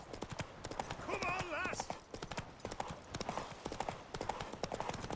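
Horse hooves clip-clop at a steady galloping rhythm in The Witcher 3 video game, close and continuous, with a short whinny partway through and a voice calling over the hoofbeats.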